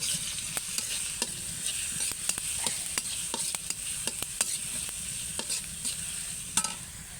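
Food stirred and fried over a clay stove at home, a steady sizzle running throughout with repeated sharp scrapes and taps of the spoon against the pot, close and clear, no voices.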